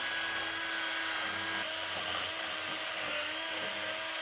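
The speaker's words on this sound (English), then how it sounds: "So you could use a wire brush or a wire wheel." A nylon wire wheel scrubs corrosion off a Porsche hub flange during a brake pad and rotor job, giving a steady, close, high-pitched whirring grind that runs unbroken throughout with no talking.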